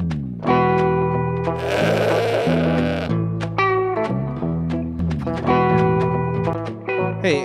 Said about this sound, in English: it's hard to identify with a goat sounding like that